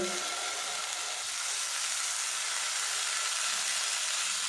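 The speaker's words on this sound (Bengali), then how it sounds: "বাকিগুলো আমি এইভাবে ভেজে নেব।" A continuous, even hiss of egg-and-eggplant koftas frying in oil, dense and steady without pause, heard close and alone.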